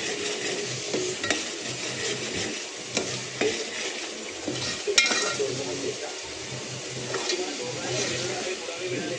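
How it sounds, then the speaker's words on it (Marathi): Green-chilli masala for mutton rassa roasting in a pan, a continuous low sizzle under repeated scraping strokes of a spoon against the pan, close and moderately loud, with a sharp clink midway. "आपण आणखीन थोडासा भाजू द्यायचा।"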